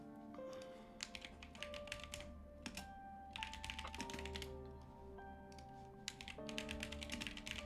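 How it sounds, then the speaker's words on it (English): Rapid keystrokes clatter from a failing computer keyboard that double-registers presses, steady and close over a background of music or game sound. "My keyboard is also breaking"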